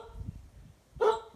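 A dog barks once, a short sharp bark from fairly close by, during potting of herb seeds; quiet tapping and handling sounds come before it.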